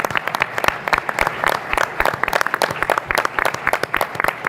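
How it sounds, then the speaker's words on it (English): An audience at a USIPA national event bursts into sustained applause, a dense, lively patter of many hands clapping close and loud throughout. "just a big round of applause for them and the leads here"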